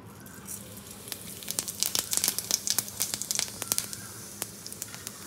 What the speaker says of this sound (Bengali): তেল গরম করে প্রথমে একটু জিরে ফোড়ন দিয়ে দেবো।